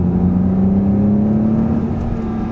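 A 2021 Acura TLX Advance accelerating with its transmission in sport mode gives a steady, loud engine drone that holds a constant low pitch throughout, with no talking over it.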